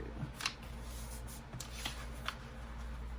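Close, quiet crisp rustles and crinkles of textured old writing paper being folded into a journal, several short papery bursts spaced irregularly.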